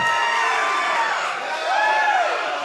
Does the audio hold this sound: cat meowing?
no